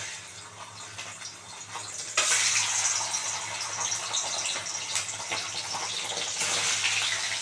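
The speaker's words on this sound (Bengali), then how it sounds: "একটু হালকা উষ্ণ উষ্ণ গরম জল দিয়ে আমি ধুয়ে নিই" Warm water runs and splashes while paneer is rinsed in a kitchen, a steady gushing flow that grows louder partway through and continues close by without talk.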